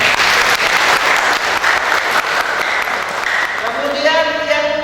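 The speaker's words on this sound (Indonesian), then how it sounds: "Tepuk tangan." A crowd at a talk on digital fraud prevention breaks into sustained applause, a dense clapping that fades near the end as a voice starts speaking.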